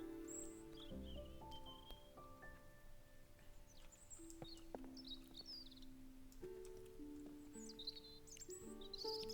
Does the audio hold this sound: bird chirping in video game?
yes